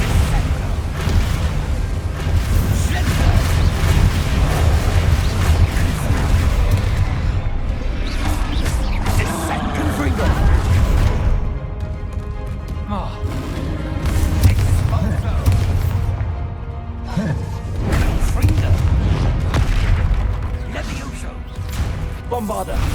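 Heavy booming impacts from a Descendo slam spell crash repeatedly through a Hogwarts Legacy battle, loud and dense with rumbling combat noise and voices speaking throughout.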